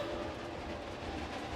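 A coaster train ride in Planet Coaster 2, heard as a steady, close rolling rumble with a faint rhythmic clatter of cars on track, continuous throughout with no pauses.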